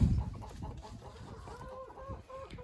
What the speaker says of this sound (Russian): Это мои молодые курочки.